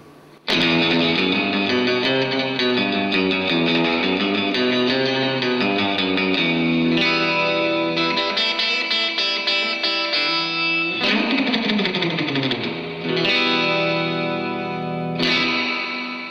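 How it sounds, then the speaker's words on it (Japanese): An electric guitar through a Roland Cube amp's spring reverb effect strums and picks chords with a splashy, echoing reverb, loud and continuous, with notes ringing out between phrases. "これに新エフェクトスプリングリバーブをかけた音色です"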